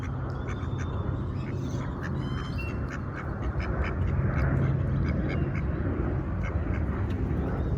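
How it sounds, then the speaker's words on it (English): Ducks quack repeatedly in a park, several birds calling close by in a steady chorus over broad outdoor background noise. "The ducks are coming to say hi."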